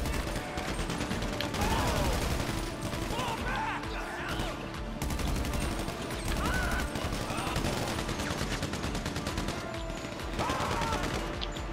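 Heavy enemy gunfire in a GTA V shootout mission at a complex, with dense overlapping automatic bursts and rapid shots sustained throughout, loud and close, with no pauses.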